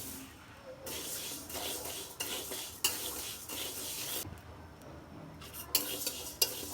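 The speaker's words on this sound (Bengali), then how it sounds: "প্রথমে আমি ডাউলটা ভেজে নেব হালকা করে" Mung dal being dry-fried and stirred in a pan, a steady scraping and rustling that runs through the whole passage with a few sharper clinks of utensil on metal, close and moderately loud, with no talk.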